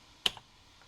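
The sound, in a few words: typing on NEC PC-8001 mkII Japanese computer keyboard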